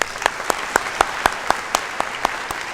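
A convocation ceremony audience applauds the dean after the reading of graduates' names, with broad, steady clapping and a rhythmic group of claps standing out at regular intervals.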